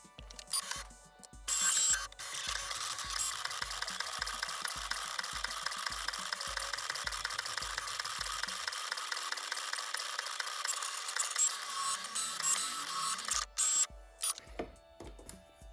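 A Cricut cutting machine cuts a stencil, giving a steady whirring motor hum with rhythmic mechanical clicks and carriage movements. Sharp thuds come at the start and end, and there is no talking.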